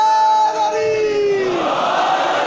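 A large crowd at a Shia religious gathering in Jafria Colony, Lahore chants slogans in unison, loud sustained voices rising and merging close by.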